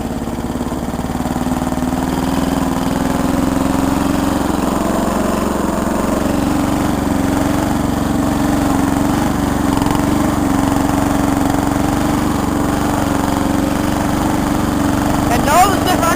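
A riding lawn mower fitted with headlights drones steadily while mudding, its engine holding a constant, fairly close hum with no pauses throughout.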